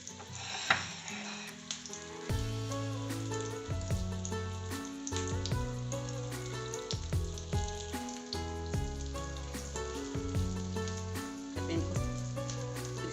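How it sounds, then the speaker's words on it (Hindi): Aloo tikki potato patties shallow frying in oil on a tawa over low heat, a steady close sizzle and crackle that runs continuously with soft popping, no voices. "अब हम इसको फ्राई करते हैं। इनको शैलो फ्राई करना है, खुले तेल में फ्राई नहीं करना इनको।"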